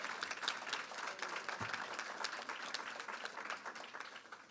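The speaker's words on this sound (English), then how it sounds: "Let's give everybody a round of applause this morning." An audience at a Prince George's County crime press conference applauds. The scattered, fairly faint clapping runs steadily through the whole stretch with no voices over it.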